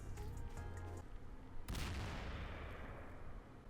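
A grenade goes off in Garry's Mod, using Helldivers 2 weapons. One heavy close boom cuts through the earlier game noise and leaves a long rumbling, hissing decay.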